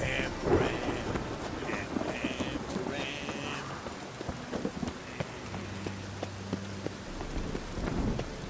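Steady rain pattering in The Witcher 3: Wild Hunt, a dense hiss that runs through the whole stretch, with game voices and a low tone heard faintly over it.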